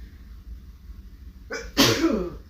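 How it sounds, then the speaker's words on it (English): A single sharp human sneeze bursts out close and loud after a short quiet pause, with a brief quick intake of breath just before it. "I feel like I'm about to sneeze."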